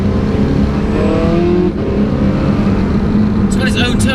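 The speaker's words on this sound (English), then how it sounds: "When was the last time you heard a V8 like this?" A Porsche 918 Spyder's race-derived V8 drones loud and close, its pitch rising and falling through the revs with a brief dip midway, and a sharp mechanical clatter near the end.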